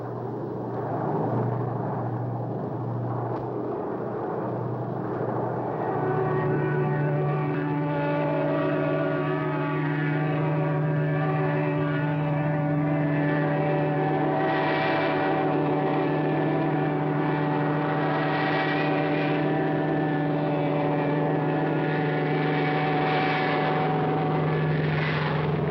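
Twin propeller engines of P-38 fighter aircraft diving on a bombing run, a loud continuous droning roar whose pitch rises and shifts, sustained throughout with no voices.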